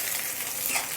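Long-cut green chillies and tomatoes sizzle in a pan as they are stirred, a close, steady hiss of frying with no voices.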